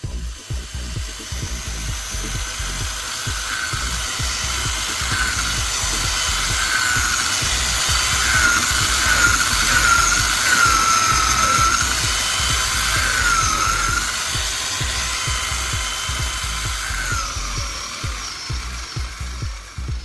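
A brushed DC motor runs on a 7.4-volt battery with a loud, close, rattling whir that rises slightly mid-run and then eases, steady and with no speech.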